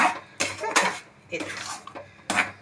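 Lid set onto a cooking pan of mango pickle, several sharp metallic clanks and scrapes close by, with a voice speaking between them.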